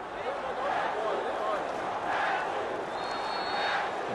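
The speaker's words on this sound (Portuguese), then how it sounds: "A torcida grita o nome dele," Football stadium crowd at a Botafogo versus Flamengo Brasileirão match chanting Petkovic's name, a dense sustained roar of massed voices rising in waves as a corner kick is taken.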